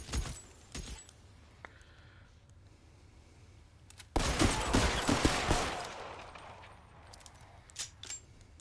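Shotgun blasts in L.A. Noire VR, a couple of sharp cracks early on, then a louder booming burst with rattling clatter that decays over a second or two, with quiet handling clicks between.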